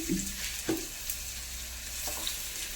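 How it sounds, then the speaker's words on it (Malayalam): Sardines frying in a hot pan at home, giving a steady close sizzle with a few soft stirring clinks and scrapes and no voices. "ചട്ടിയൊക്കെ ചൂടായി മീനൊക്കെ ഇട്ട് കൊടുക്കട്ടെ"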